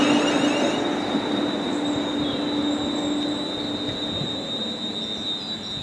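A West Midlands Railway train pulls into a station platform, a steady loud rumble of wheels with a high brake or wheel squeal ringing throughout, close by and continuous with no talk.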